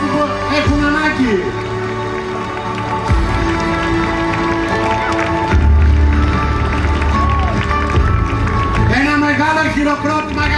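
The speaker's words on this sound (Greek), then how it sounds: "Μεγάλο χειροκρότημα για τον αθλητή μας." A crowd applauds a torch relay athlete carrying the flame at an outdoor event in Skala in 2012. Steady clapping and crowd noise run throughout under a loud amplified announcer's voice.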